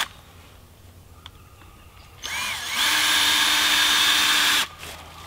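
A power drill drives screws into 2x6 joists overhead in a cabin under construction, a quiet tick and short whir first, then a loud, steady high whine lasting about two seconds before it cuts off.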